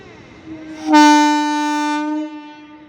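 A Bangaon local train passes beneath Vidyasagar Setu near Princep Ghat railway station and sounds one loud, sustained horn blast lasting about a second before it fades, close and with no voices.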